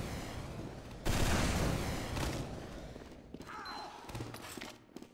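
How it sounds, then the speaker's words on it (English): Rapid gunfire and rocket blasts in a lagging online shooter game, a loud dense barrage that thins out into scattered shots and thumps toward the end. "cause we're shooting so much."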